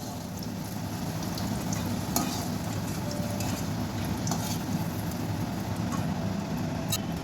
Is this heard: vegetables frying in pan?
yes